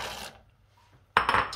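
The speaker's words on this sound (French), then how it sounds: "Et là, on va plonger nos amandes." Almonds drop into hot caramel sugar syrup in a pan in two close, bright rattling clatters, the second louder, with a short quiet gap between them.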